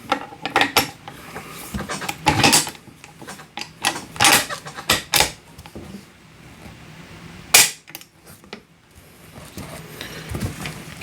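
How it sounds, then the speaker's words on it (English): Metal bolt being reinserted into a French MAS-36 bolt-action rifle: a run of sharp mechanical clicks and clacks, close and fairly loud, with a few quieter gaps between the impacts and no voices. "Let's get the bolt back in here."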